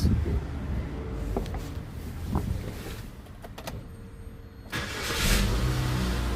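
A Nexia 3 car's engine runs steadily during a diagnostic test after repairs, with a loud, continuous mid-low hum, scattered clicks and a swell in revving near the end.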